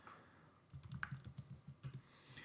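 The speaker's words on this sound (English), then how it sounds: "So if I type a message here," Keys on a computer keyboard are tapped in a quick, uneven run while a chat message is typed, close by and fairly quiet, with no voices.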